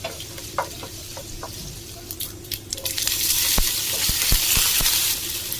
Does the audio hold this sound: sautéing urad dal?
yes